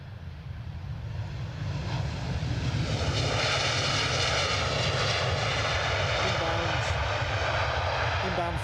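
A Ryanair jet airliner at Edinburgh airport, its engines giving a loud, steady roar that builds slightly and holds for several seconds with a broad rumbling rush, with a voice talking faintly over it.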